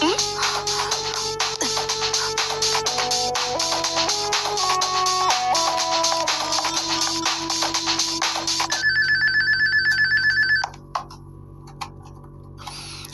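A phone ringtone plays a loud melodic tune for several seconds, then switches to a sharper repeating electronic ring before cutting off, all close and clear.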